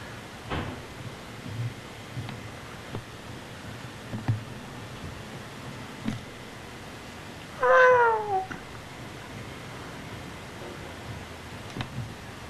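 A domestic cat in a home lets out a single clear meow midway, surrounded by a quiet room hush and a few soft knocks and rustles.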